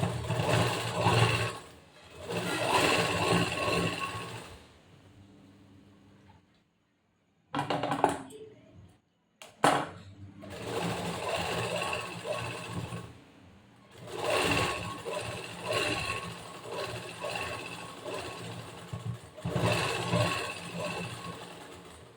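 A domestic sewing machine stitches cloth for a cross-cut blouse, running in bursts of steady rapid whirring with brief pauses and a short silent gap partway through, close and fairly loud.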